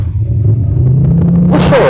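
A light aircraft engine in flight, droning low and steady, then power is applied near the end and the pitch climbs into a rising, louder roar. Nobody speaks.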